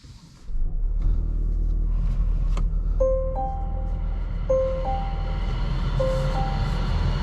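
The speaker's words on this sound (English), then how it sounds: "let's start it up using this unique start switch that Volvo has" A 2025 Volvo V60 Cross Country starts via its start switch, its engine catching with a low steady rumble that settles into idle, while a repeated two-tone chime sounds from inside the cabin.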